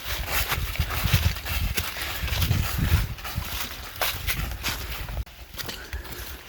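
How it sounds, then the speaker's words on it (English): Horses walk along a forest trail in the Porcupine Mountains in fall, with a steady, irregular clip-clop of hooves close by and outdoor rustle around them. "Good old horses."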